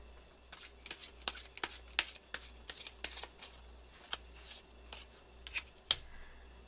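Tarot cards shuffled by hand up close: a quiet series of crisp papery flicks and soft slaps, irregular in rhythm, with about two dozen distinct card snaps over several seconds and no talking.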